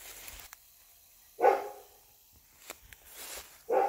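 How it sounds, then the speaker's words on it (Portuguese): A large dog of about 90 kilograms barks behind a house on an overgrown, abandoned property: two loud single barks, spaced a couple of seconds apart, over quiet outdoor background. "tem uma casa e tem um cachorro que pesa uns 90 quilos"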